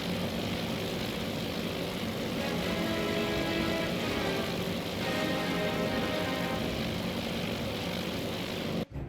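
B-26 bombers and other propeller aircraft, twenty-plus in a strike group heading toward Eastern Island in the Battle of Midway naval strategy game Task Force Admiral: a steady, dense engine drone holds throughout, then cuts off abruptly.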